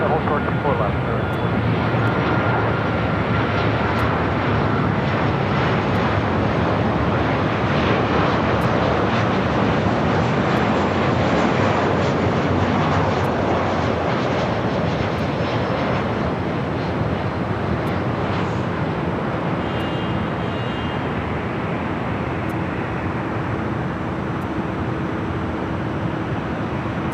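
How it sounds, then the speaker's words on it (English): A United Boeing 737-800 airliner in Star Alliance livery arrives on runway 24 left at LAX, a loud continuous jet roar that holds steady and then eases slightly, with radio chatter heard over it. "It's the 737-800 United in the Star Alliance livery. 24 left arrival."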